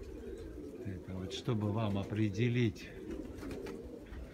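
Pigeons cooing in a series of low, throaty pulses near the middle, mixed with someone talking over them.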